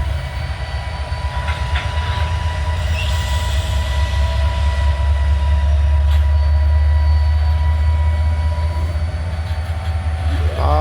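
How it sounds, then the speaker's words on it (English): The Abbeville switcher train passes close by, a loud continuous rumble with clickety-clack of wheels over rail joints and a brief wheel squeal near the end. "Abbeville switcher coming in"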